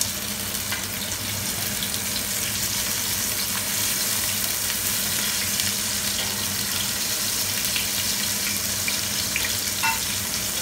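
Ginger and onion sautéing in a pan for saluyot, a steady soft sizzle with faint stirring clinks running evenly throughout, no talking.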